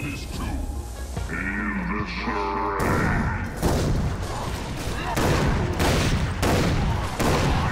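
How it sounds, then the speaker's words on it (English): Shotgun gunfire in the video game Far Cry 3 Blood Dragon, a rapid series of loud booming blasts with game music and voices underneath early on. "They have shotguns too."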